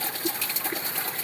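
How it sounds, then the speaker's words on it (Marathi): Water gushing fast from the outlet pipe of an overheating water pump motor, a steady rushing hiss without breaks, moderately loud and close. "पाईप ऐका एवढं फास्ट पाणी आलं"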